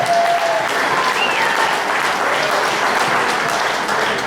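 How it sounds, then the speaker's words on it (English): Steady, full audience applause rolls through a general meeting room, a continuous wash of many hands clapping without a break. "Give him a round of applause"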